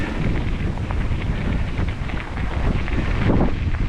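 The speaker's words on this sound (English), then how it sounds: "That breeze is very nice." Steady rushing wind buffets past an open car of a train chugging west on the Graham Subdivision, a loud continuous roar with low rumbles throughout.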